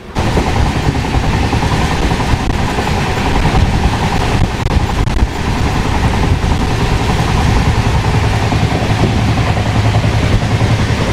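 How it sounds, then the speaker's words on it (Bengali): A moving passenger train heard from inside a non-AC chair car coach with ceiling fans, a loud steady rumble and rattle running continuously at high speed with no talking. "আর এই মুহূর্তে আমাদের ট্রেন একদম ফাটিয়ে টানছে"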